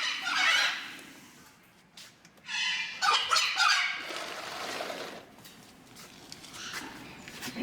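Birds honk and call in outdoor aviaries, loud squawking bursts near the start and in the middle, with softer scattered calls and quiet outdoor background between them.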